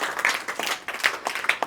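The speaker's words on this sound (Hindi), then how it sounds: "इसके लिए जोरदार तालियां होना चाहिए।" Scattered hand clapping from a small group of students in a math class, uneven and moderately loud, with irregular claps rising and falling over a short stretch.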